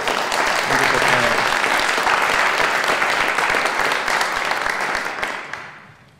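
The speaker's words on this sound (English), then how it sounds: "Can we just have a round of applause for our wonderful panel?" Applause from an audience at a poetry event on Burma, dense and sustained for about five seconds before fading out at the end, with faint voices underneath.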